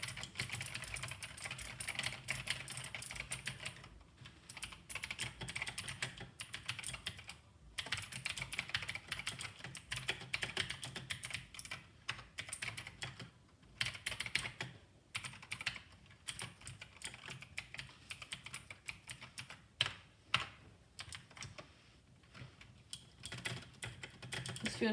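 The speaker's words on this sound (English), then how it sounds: "These are real Cherry MX Blue switches on this." A budget mechanical keyboard with Cherry MX Blue switches is typed on continuously, a fast stream of crisp clicky keystrokes with brief pauses, fairly quiet and close, and no talking.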